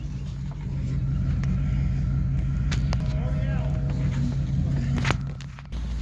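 A gas truck engine with a bad misfire idles with a low, uneven rumble and rattle, close by, while people talk over it.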